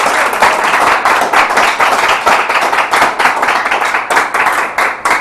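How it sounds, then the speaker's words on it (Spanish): A church congregation claps for the Lord in a steady, dense burst of applause, loud and close, with a faint voice briefly heard beneath it. "De las palmas al Señor"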